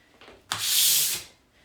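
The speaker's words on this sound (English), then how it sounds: "And so this is just kind of like a not fine, sanding." Painted furniture being hand sanded with flat-held sandpaper between paint coats, giving one sustained rough, hissy scrape of about a second that swells and fades, close and alone.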